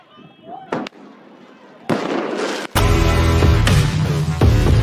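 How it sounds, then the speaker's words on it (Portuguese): Fireworks show at Moscow City, with loud booming bursts and crackling that build into dense, sustained rumbling explosions, mixed with voices and crowd noise. "até mesmo na sua janela pode acontecer um show de fogos."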